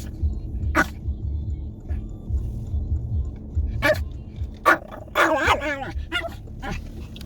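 A small Pomeranian dog barks in a few sharp, high yaps, spaced irregularly, close by over a low background rumble.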